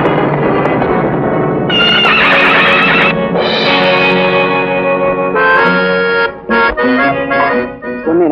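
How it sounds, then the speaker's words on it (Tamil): A spirited, unruly horse in an old Tamil film scene lets out loud, shrill neighs and whinnies that rise and fall in repeated bursts. The calls are close and prominent over a dense film soundtrack, with a few choppy calls near the end. "இது முரட்டு குதிரை"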